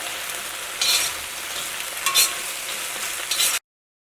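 Thattukada-style cauliflower fry is mixed in a pan: a steady oily sizzle broken by a few brief stirring scrapes, then a sudden cut to silence.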